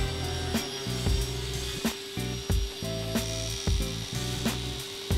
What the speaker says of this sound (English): After laying out the size of the box I wanted to make, I had to make some cuts. And I did this on my panel saw.